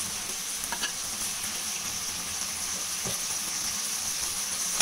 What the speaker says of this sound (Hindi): अब ये सारे खड़े मसाले डाल देते हैं।